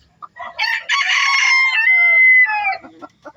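A Bantam rooster lets out one loud, close cock-a-doodle-doo, a drawn-out crow that rises and then trails off, with a few soft clucks around it.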